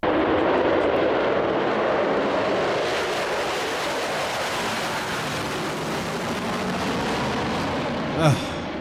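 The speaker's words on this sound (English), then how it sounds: "listen to Concorde take off." A Concorde takes off with a loud, sustained jet engine roar that fills the air, a broad rushing thunder that stays strong and slowly shifts as the aircraft climbs away.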